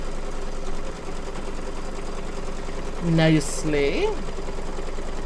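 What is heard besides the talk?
embroidery machine stitching a zipper bag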